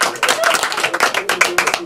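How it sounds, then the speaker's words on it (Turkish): Family at home applauding as a space capsule splashes down in the ocean on live TV; steady close clapping for the whole stretch, with voices mixed in. "Gezer Avcı ailesi alkışlarla kutladı o anı."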